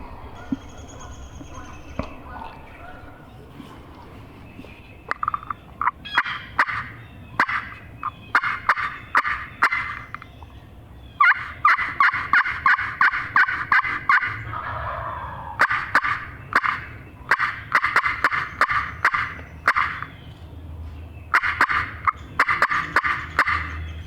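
Wild turkeys gobble again and again in rapid, rattling bursts, several birds answering one another at moderate distance with short pauses between calls.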